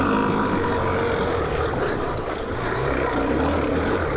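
A Suzuki DR-Z4S dual-sport motorcycle engine roars loud and steady at high revs, a continuous buzzing drone recorded close with wind noise.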